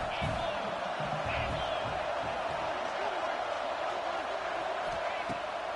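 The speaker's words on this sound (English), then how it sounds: "Here comes second down, and this crowd is turning it up a notch." Stadium crowd noise from a college football video game, a steady roar that swells and rumbles in the background while a commentator talks over it.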